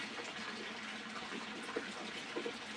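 A waterfall in Bali rushes in a continuous broadband wash of falling water, steady and enveloping, with faint brief knocks and no clear voice above it.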